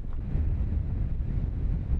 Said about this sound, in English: The wind blowing like this, you can't see 20 feet in front of you.